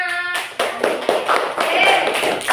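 A classroom gives a short burst of hand clapping for a student group after their presentation, scattered claps over about two seconds with a voice briefly heard at the start.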